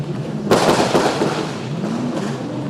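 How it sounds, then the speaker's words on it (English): Drift cars in the top-16 parade at the Borneo Star Drift series, round 3, fire loud crackling exhaust pops and bangs in sharp bursts over a steady engine roar. "You can chill out with the pops and bangs."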